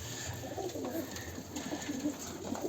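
Pigeons coo softly and steadily inside a coop, a low repeated murmur of several birds under constant background hiss, with no talking.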